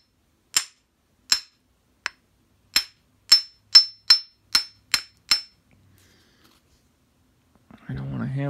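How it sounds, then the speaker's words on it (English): Hammer blows on a Master Lock Pro 6850 all-brass padlock: nine sharp, close metallic strikes in an uneven rhythm, followed by a pause and then a voice beginning at the end. "I don't want to hammer it any farther in there."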